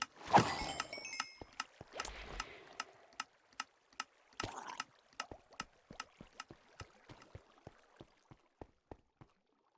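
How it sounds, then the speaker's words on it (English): Cartoonish water gurgles from a video game set at a copper geode farm in The Citadel, a steady train of sharp bubbly pops that start dense and loud, then thin out into an evenly spaced, fading series. "There's definitely a lot of gurgling happening."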